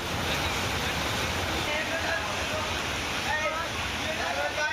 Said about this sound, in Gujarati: અમરેલીની નદીમાં પૂર